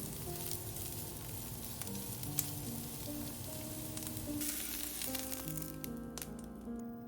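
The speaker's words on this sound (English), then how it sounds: "Add the onion and stir fry for about 20 seconds." Onion stir-fries in hot oil in a pan, giving a faint, even sizzle that holds steady throughout, with no voices.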